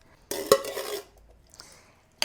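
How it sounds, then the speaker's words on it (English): A large can of pork and beans is poured into a pan, giving a wet, sloppy rush and a metallic clink, close up, followed by a quieter scrape and a final sharp tap. "We're just going to pour in 1 large can of pork and beans."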